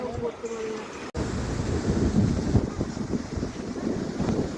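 Steady seashore wind at Digha rushing past the microphone through casuarina trees with a low, broadband roar, continuous throughout with a brief dropout early on.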